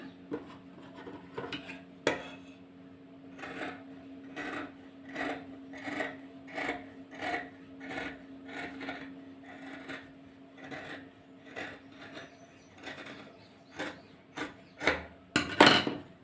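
Scissors snipping through blouse fabric at the neckline, a steady run of crisp, close cuts repeating roughly every half second, ending in a quick flurry of louder snips.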